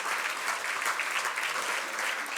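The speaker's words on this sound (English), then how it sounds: "You can clap it up, scream it up, woo it up" Audience at a cooperative hall of fame induction ceremony applauding and cheering, a dense, even roar of clapping that holds steady throughout with no talking.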